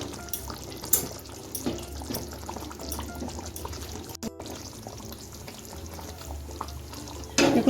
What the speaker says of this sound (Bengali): এবারের জন্য দু টেবিল চামচ আদা সর্ষের তেল ছড়িয়ে দিচ্ছি